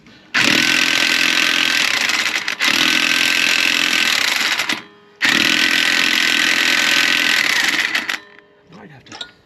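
Power tool removing wheel lug nuts on a 2013 Dodge Avenger: three long, loud, steady buzzing bursts of several seconds each with short gaps between, ending in a few light clanks.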